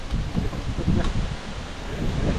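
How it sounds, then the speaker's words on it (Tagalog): Strong wind gusts buffet the microphone outdoors at a seaside fishing and cooking spot at night, a rough, rumbling whoosh filling the short stretch with no one speaking. "sobrang lakas po ng hangin"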